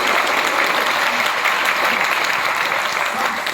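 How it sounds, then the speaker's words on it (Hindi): Steady, dense audience applause for a woman at a Vestige success-story seminar, filling the whole stretch at an even, full level with no break. "मैम के लिए जरा ताली बजा"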